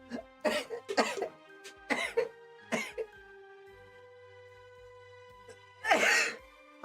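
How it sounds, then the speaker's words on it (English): Repeated harsh coughing after cola went down the wrong pipe, several clustered close bursts, then a pause over a faint steady hum before one final loud cough. "I just coughed. I just drowning in cola. It went down the wrong pipe."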